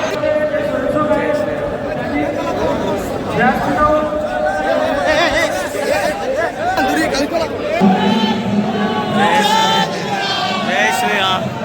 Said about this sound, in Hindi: भाई कैसी भीड़